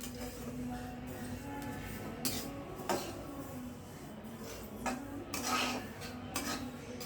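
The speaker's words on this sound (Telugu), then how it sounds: "సిమ్లో వేయించుకోవాలి" Sesame seeds roasting in a pan on a low flame, scraping stirs and light metallic clinks over a faint background hum, close and quiet.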